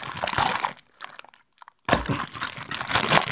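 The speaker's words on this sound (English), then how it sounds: "I'm gonna use my trusty scissors." Scissors snip and crunch through stiff plastic toy packaging with close, crinkly cutting bursts, broken by a short quiet pause before the crackling resumes.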